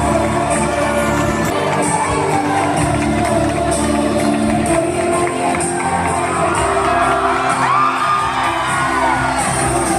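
A large crowd of school and college students cheering, whooping and shouting in welcome for a motivational speaker at an event, a dense sustained roar of voices filling the space, with scattered higher shouts.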